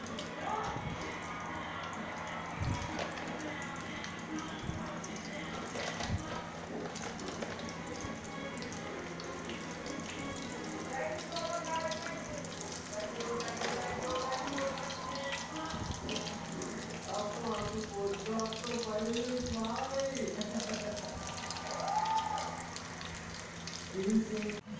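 McCain veggie fingers frying in hot oil in a home kitchen give a steady, close sizzle and crackle that runs the whole time. Faint voices from a television murmur in the background.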